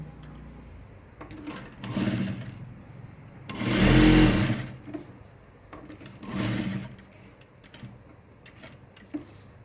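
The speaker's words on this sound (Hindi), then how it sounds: "फिर यहाँ सिलाई लगाएंगे।" A sewing machine stitches ladies' pants in short runs. There is a whirring burst, a longer loud surge, then another burst, with quiet handling sounds in between.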